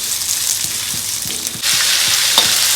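Five hundred grams of marinated, fried boneless chicken drops into a hot pan, and a soft bubbling jumps into a loud, steady sizzle up close.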